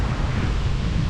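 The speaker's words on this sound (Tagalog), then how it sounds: "Bugso-bugso yung hangin." Gusty wind buffeting the microphone at a coastal boat-building site, a steady, loud roar of rumbling, low noise without any voices.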